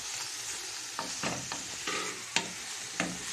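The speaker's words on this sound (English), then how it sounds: "we're going to stir this just for a few seconds" Boiled, picked saltfish is stirred in a cooking pot over a steady sizzle, with a spoon scraping and knocking the pot several times at irregular intervals, close and clear.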